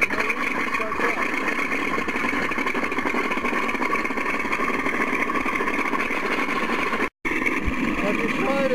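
Mr RC sound system engine sound running on its own from a speaker, a steady buzzy synthetic engine drone with a brief cutout near the end, under a man's speech.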